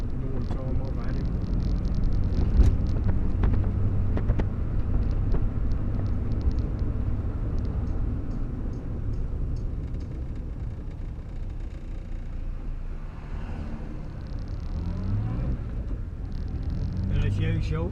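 A 1962 Morris Minor car on the move, its engine giving a steady low drone with road rumble and cabin noise that holds fairly even throughout.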